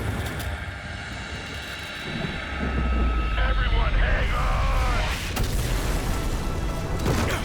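Helicopter in Call of Duty 4: Modern Warfare, a loud, steady low rotor and engine drone that swells midway, mixed with crashing game effects and blasts.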